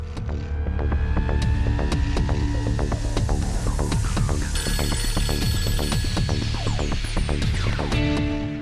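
A telephone rings continuously, a steady electronic trilling tone repeating throughout, fairly loud and close with no talking.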